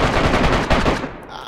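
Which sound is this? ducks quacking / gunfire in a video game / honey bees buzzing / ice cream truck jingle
gunfire in a video game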